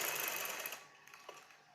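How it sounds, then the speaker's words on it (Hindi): A sewing machine runs in a fast, steady burst while stitching over folded shirt fabric, then stops after about three quarters of a second, leaving only faint handling noise. "अब हमने इस कपड़े को अंदर की साइड मोड़ा है और इसके ऊपर हम सिलाई लगाएंगे।"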